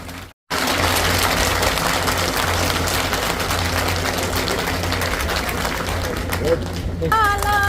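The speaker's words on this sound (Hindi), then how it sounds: "उनका भी जोरदार तालियों से स्वागत करें" A crowd at a party gathering in Srinagar applauds loudly and continuously to welcome the party secretary, dense clapping that fills the whole stretch after a brief silent gap at the start.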